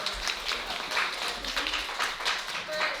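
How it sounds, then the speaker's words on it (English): An audience applauds the panelists at an evening vision board soirée, a steady wash of many hands clapping for about three seconds at moderate distance. "Can y'all give them a round of applause?"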